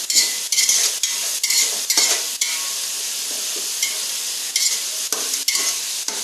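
Chicken pieces fry in a pan on the stove with a steady broadband sizzle, broken by repeated stirring and scraping of a spatula or spoon against the metal, with no talk.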